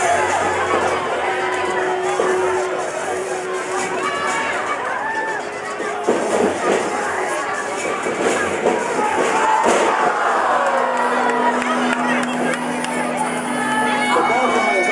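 A lively crowd at a Luchapalooza lucha libre wrestling match roars, cheers and shouts continuously, with thuds from the ring and an announcer talking over the noise throughout.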